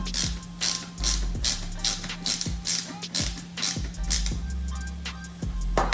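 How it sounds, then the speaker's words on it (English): Plastic visor parts of an Arai GP7 motorcycle helmet ratchet and click into place, giving a series of sharp, close mechanical clicks and pawl snaps spaced irregularly over a faint background. "That clicks in place just like that."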